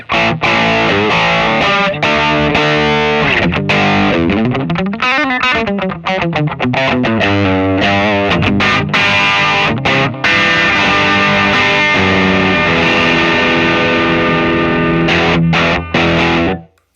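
A heavily distorted electric guitar through a Walrus Audio Voyager MkII pedal with gain maxed plays loud, saturated chords and single-note runs with a wide bend in the middle, all at full volume.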